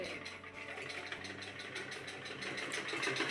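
An electric sewing machine stitching a torn garment at home, its motor running in a steady, continuous mechanical whir that stays close and fairly loud throughout, with no talking.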